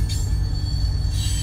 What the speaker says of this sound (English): y'all hear that train over there